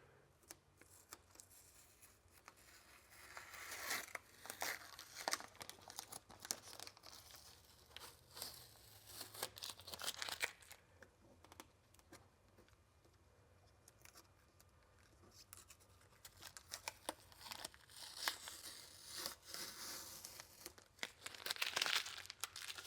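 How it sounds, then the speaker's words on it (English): Adhesive tape peeled away during a Fathouse Performance radiator plate install on an S550 Mustang, giving intermittent crinkling, tearing rustles that come and go in bursts, fairly close and quiet, with no talking. "We'll remove our tape."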